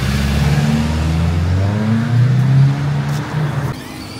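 A Losi MXB RC car drives with a steady, close motor drone whose pitch rises and falls as it speeds along, with no talking over it.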